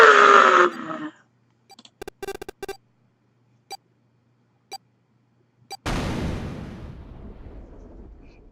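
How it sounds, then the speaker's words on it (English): Explosion in the video game 999: after sparse clicks and beeps in near silence, a sudden loud blast bursts in and rumbles on with a long, noisy decay. "The explosion rocked the room."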